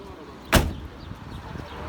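A door of a 1993 Tofaş Şahin car that needs adjustment closes with one sharp, close thud, followed by faint handling rattles in a quiet setting.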